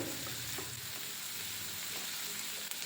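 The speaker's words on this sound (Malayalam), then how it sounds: "ഒരു കഷ്ണം ഇഞ്ചിയും അഞ്ചാറ് വെളുത്തുള്ളിയും ചതച്ചതും ഒരു പച്ചമുളക് നീളത്തിൽ കീറിയതും ചേർത്ത് വീണ്ടും വഴറ്റാം" Crushed ginger, garlic and a slit green chili sautéing in a pan, a soft, steady sizzle with faint stirring scrapes throughout, quiet and unbroken.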